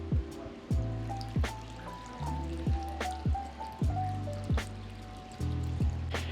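Water from a hose splashes and drips into a stainless steel tank, irregular plinking drops and ringing trickles close by with no talking.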